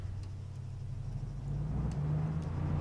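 A car engine hums low and steady as the car reverses in the military game Arma 3, growing slightly louder partway through. There is no talking over it.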